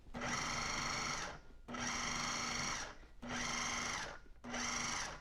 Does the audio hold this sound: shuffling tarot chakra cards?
no